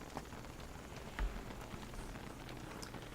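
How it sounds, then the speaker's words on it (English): Rain patters softly and steadily in the Don't Starve: Reign of Giants video game, a faint, even hiss of drops with a small bump partway through. "this is a long-lasting rain"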